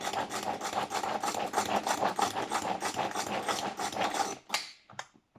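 A kitchen chopper minces food with Philadelphia cream cheese in a close, rhythmic grinding whir for about four seconds, then stops, leaving a few faint knocks.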